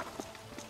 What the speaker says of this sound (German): Ich wollte nur schnell das Pferd holen.